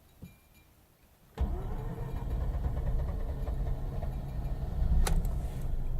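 A Mazda RX-8 engine cranks and catches with the clutch pressed in, after about a second of quiet, then settles into a steady, close idle with a brief swell of revs near the end.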